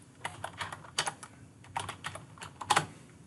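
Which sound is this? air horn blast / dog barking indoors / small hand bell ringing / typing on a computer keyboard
typing on a computer keyboard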